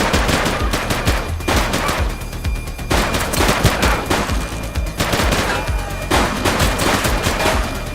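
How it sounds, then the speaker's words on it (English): Gunfire in The Precinct police video game, with loud, dense bursts of rapid shots and overlapping automatic fire that runs continuously without a break. "Shots fired!"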